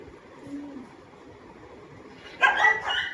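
A dog at a home gives a short burst of several sharp barks near the end, after a quiet stretch with faint background sounds and a brief bird-like call.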